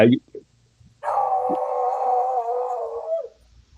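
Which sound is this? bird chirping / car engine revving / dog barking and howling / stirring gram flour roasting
dog barking and howling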